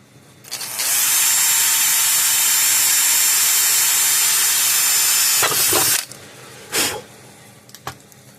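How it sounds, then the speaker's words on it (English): A small power drill whines loudly and steadily for about five seconds, drilling holes in an electric fence charger's circuit board, then stops, followed by a couple of brief scraping and clicking noises. "We're going to drill 2 holes."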